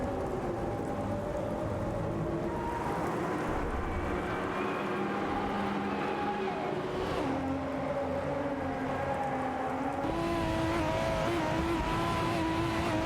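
Race car engines drone and whine continuously on the Sarthe Retro circuit in a racing video game, several cars revving and shifting pitch over a steady loud roar.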